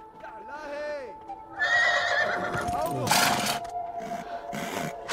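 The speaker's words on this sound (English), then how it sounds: "I don't know what you're saying to that horse, but he doesn't like it" A horse in the video game Beyond: Two Souls gives a rising, wavering whinny and then sharp snorts and blowing breaths, close and clear, with hoof clops and a human voice talking between the calls.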